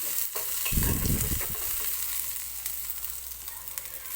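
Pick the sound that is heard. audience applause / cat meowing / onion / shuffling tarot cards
onion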